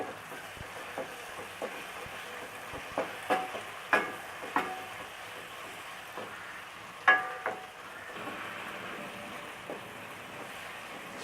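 Chopped tomatoes are stirred in a frying pan while making a Tamil chicken gravy, with soft sizzling beneath a series of distinct spoon scrapes and knocks against the pan. The strongest clatter comes near the middle.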